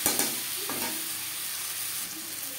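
Onion, tomato, garlic, salt and turmeric stirred together in a hot pan, a close, even sizzle with a few sharp spatula knocks at the start.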